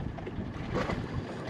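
A strong headwind on the water during a fishing trip, a steady, loud, rumbling gust buffeting the microphone with no voices.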